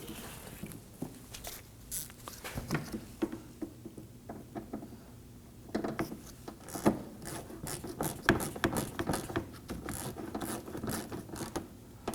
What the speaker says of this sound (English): install our screw here, holding the lower edge of that bumper, and that's that Torx bit screw